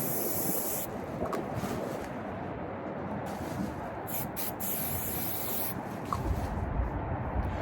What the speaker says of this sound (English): It's very windy, keeps knocking the camera over.